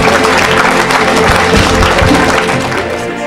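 A church congregation claps and cheers together at a deliverance service, a dense, loud, steady wall of applause with crowd voices that holds throughout and eases slightly at the end.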